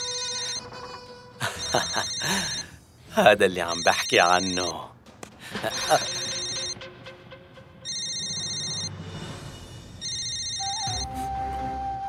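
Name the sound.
telephone ringing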